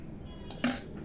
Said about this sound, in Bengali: শুকনো উপকরণকে ভালো করে তেলের সঙ্গে মিশিয়ে নেব